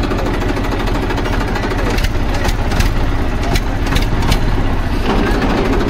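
A Massey Ferguson 1035 tractor engine idles close by with a steady low chugging throb, joined by brief sharper clatters in the middle; no one talks over it.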